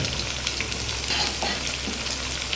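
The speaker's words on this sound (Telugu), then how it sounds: "మనం సన్నగా తరుక్కున్న 6 ఉల్లిపాయలను కూడా వేసేసుకున్నాము" Six thinly sliced onions frying in a pan for a chapati curry, giving a loud, dense, continuous sizzle close up with no voices.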